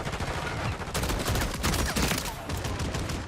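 Rapid gunfire from a Modern Warfare 3 multiplayer match crackles densely throughout, layered shots and game effects with a brief louder shotgun-like blast near the middle.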